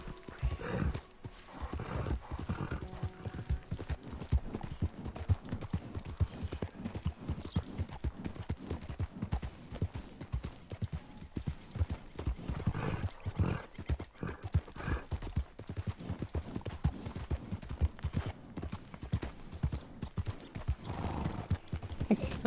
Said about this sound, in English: Your horse jumped over the bridge.